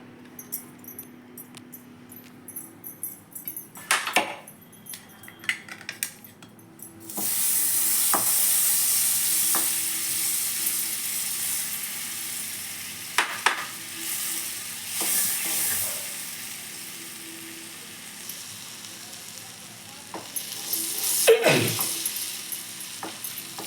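Butter melting in a pan for sweet potato soup gives a soft, steady sizzle that starts after a few quiet clinks and utensil taps and continues with occasional stirring scrapes and knocks.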